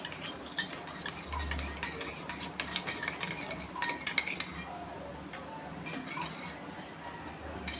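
A spoon clinks and scrapes against the inside of a cup while stirring salt into coffee, with quick rhythmic metallic taps close by, settling into quieter scraping before a few final clinks.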